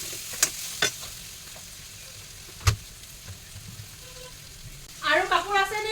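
Vegetable bhaji fries in a pan with a low, steady sizzle, a few sharp knocks of a spoon, and a burst of stirring and scraping near the end.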